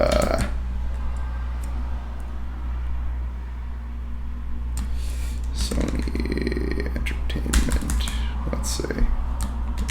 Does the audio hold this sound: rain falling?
no